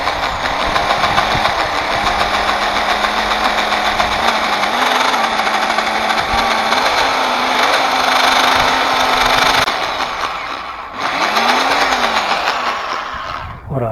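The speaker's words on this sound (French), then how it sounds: "D'abord on perce en tout petit, évidemment en mode sans percussion" Electric drill in non-hammer mode boring a small pilot hole into a pot, a loud continuous whine and grinding that holds steady for over thirteen seconds, briefly dipping near the end before resuming.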